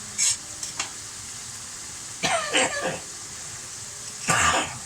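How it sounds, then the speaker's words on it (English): A man coughs in three separate bursts, close by, over a steady kitchen background with faint sizzling from a pan of spaghetti bolognese. "that's just me just randomly coughing for no reason"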